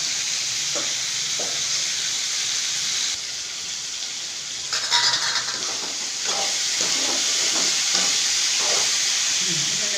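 Vegetable poriyal with ivy gourd stir-fries in a pan on a home stove, giving a steady close sizzle and hiss with scraping stirs and a few clinks throughout.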